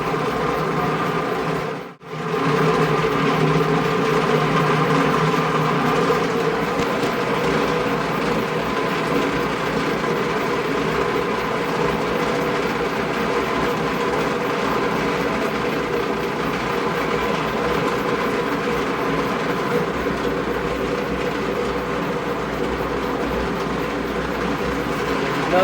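A Harbor Freight vibratory tumbler running inside a box gives off a steady, continuous mechanical rumble and rattling hum that carries on without a break, with a brief dip near the start.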